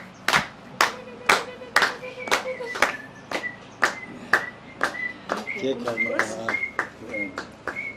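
Steady rhythmic clapping from a group at a church thanksgiving cake-cutting, sharp claps in an even beat, with voices talking or singing beneath them.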